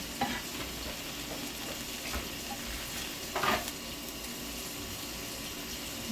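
An egg fries in a pan for huevos rancheros, with a steady close sizzle throughout and a brief louder scrape or flip partway through, no talking.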